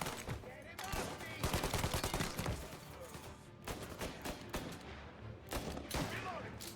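Gunfire erupts in Mafia: Definitive Edition, rapid bursts of shots and automatic fire in clustered volleys with short gaps, loud and close, with shouting voices in the mix.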